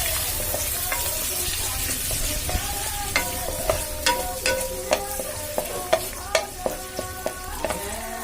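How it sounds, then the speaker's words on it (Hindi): Chopped onion browning in oil in a pan gives a steady sizzle and frying hiss, with repeated scraping clinks of a spoon stirring against the pan that grow more frequent toward the end. "प्याज को थोड़ा सा ब्राउन होने देंगे।"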